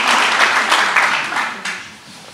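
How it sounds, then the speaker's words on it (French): Villagers at a New Year's greetings ceremony in Badefols-d'Ans applaud the commune's workers, a short, fairly loud burst of clapping with a few sharper accents that tapers off. "Je crois que vous pouvez aussi les applaudir"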